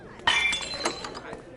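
A glass shatters in the video game Life is Strange Double Exposure, a sudden bright crash followed by tinkling shards and a second clink, loud and close before fading.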